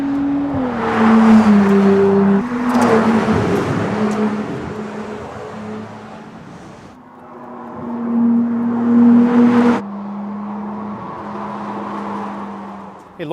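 A 2022 Ferrari 296 GTB accelerates hard along a curvy mountain road, its engine note rising and falling through upshifts, with a loud, close, sustained roar and wind rush.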